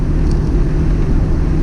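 A Mitsubishi Pajero Mini's small engine labours up a highway hill in third gear at about 30 mph, a steady, close, continuous low drone with road and wind rumble throughout.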